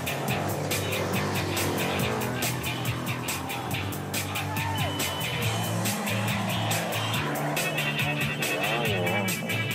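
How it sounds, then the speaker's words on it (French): Rally cars arrive across soft desert sand and dust during the 2009 Dakar, engines roaring loudly and continuously nearby, with rising and falling revs and a steady engine drone throughout. "D'autant que les voitures arrivent"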